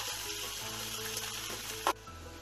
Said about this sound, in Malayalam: ആദ്യമായിട്ട് പാനിൽ വെളിച്ചെണ്ണ ഒഴിച്ച് ചൂടായി നമുക്ക് സവാള വഴറ്റിയെടുക്കാം